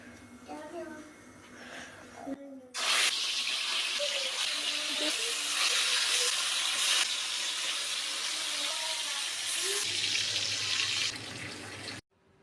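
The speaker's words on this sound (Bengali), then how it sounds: "একে একে আমি মাছগুলো তেলে দিয়ে দিচ্ছি।" Fish pieces, salted and coated in turmeric, are slipped into hot oil in a kadai, giving a loud, steady hiss and sizzle that holds for about nine seconds after a quieter stretch at the start.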